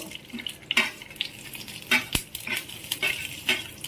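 Whole biryani spices such as cloves, cinnamon, cardamom, fennel and kalpasi frying in a pan for mutton biryani, giving a soft sizzle with repeated stirring scrapes and utensil clinks close by, no voices.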